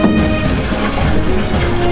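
Water from an intake pipe drawing from a deep river gushes steadily into a tank, a loud, continuous rushing pour close by with no talk.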